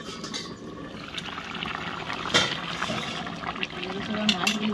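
Bubbling and gurgling of a fish curry broth with phalui fish boiling in a pot, close and continuous, with a voice speaking over it.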